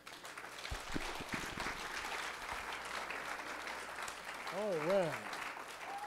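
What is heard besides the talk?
congregation hand clapping in church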